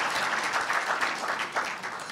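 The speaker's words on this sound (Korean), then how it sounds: "반갑다는 악수와 박수를 한번 우리 모두에게 보내주실까요" Applause and handshakes among guests at a university newspaper's 70th anniversary ceremony, a soft, steady patter of clapping heard from some distance in a hall, fairly quiet and continuous throughout.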